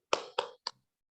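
A classroom group claps the Tepuk PAI rhythm, three sharp close claps in quick succession, the last one shorter and softer.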